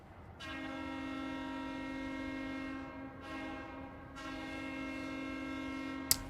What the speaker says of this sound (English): So we're gonna go with Train 2 as our horn here.